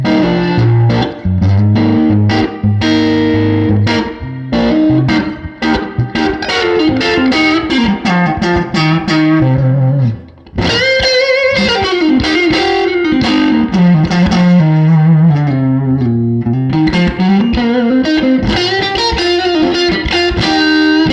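Electric guitar played through a Fender '59 Reissue Bassman tube amp with reverb, loud and continuous with hard-picked chords and driven, slightly distorted tone, ringing reverb tails and one brief gap midway.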